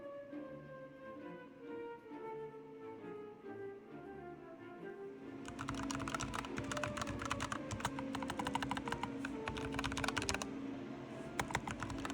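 Rapid mechanical keyboard typing with switches between silent red and red in loudness starts about halfway through, steady clacking keystrokes close by, following a quieter stretch of soft tonal background music.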